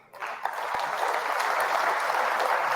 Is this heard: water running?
no